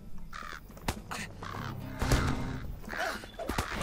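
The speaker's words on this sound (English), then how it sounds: "It sounds like crows." Crows called Crebane caw repeatedly in the LOTRO fantasy game world, several harsh calls spread across a few seconds over steady background game ambience and occasional thuds.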